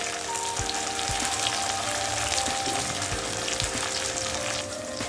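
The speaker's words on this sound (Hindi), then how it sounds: "ये भी हम ऑनियन के साथ में भून लेते हैं अच्छी तरह" Chopped tomato frying with onions in a pan for achari chicken, a steady close sizzle and crackle running evenly throughout with a few soft stirring knocks, no one talking.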